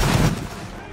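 A musket volley goes off on command in a Roblox Napoleonic Wars battle, a single loud, close burst of massed shots that rolls off into a fading rumble within a second.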